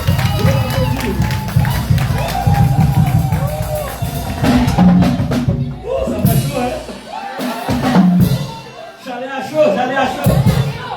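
An audience at a choir's birthday celebration claps and cheers in a loud, close, uneven burst, mixed with voices talking over it as the applause rises and falls.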